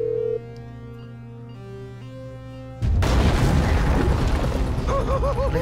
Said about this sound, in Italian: le esplosioni di GTA 5 sono spettacolari